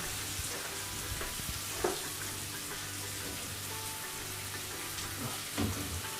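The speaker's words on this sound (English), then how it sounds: "Just try and stir it around to get the season all over it." Seasoned Jamaican curry chicken back sizzles in a pot as it is stirred, a steady close frying hiss with occasional clinks of the spoon against the pot.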